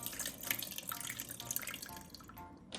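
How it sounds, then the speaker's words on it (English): Liquid pours out of a Monster High potion toy, a close trickling, splashing stream with small drips that continues steadily for a few seconds. "I'm literally just going to pour out the liquid."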